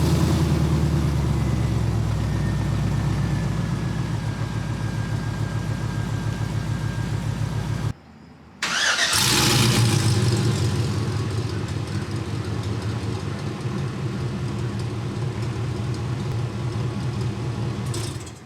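A Chevrolet C10 truck with long-tube headers, no catalytic converters, 3-inch Enforcer glass pack mufflers and exhaust cutouts rumbles loud and close in a steady idle, dropping out for a brief moment before the deep burble resumes.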